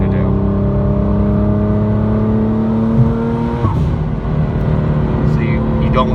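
A Nissan GT-R with a freshly built engine cruises on the highway in sixth gear at about 2,000 RPM, a steady low engine drone with road noise filling the cabin.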